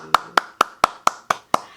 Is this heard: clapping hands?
yes